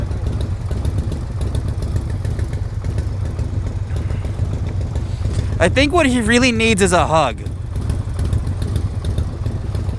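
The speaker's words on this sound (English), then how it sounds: "Vroom, vroom. So many motorcycles." Motorcycles idle nearby, including a Triumph Bonneville T120 fitted with an X pipe, giving a steady low engine rumble throughout, while a person speaks briefly over it partway through.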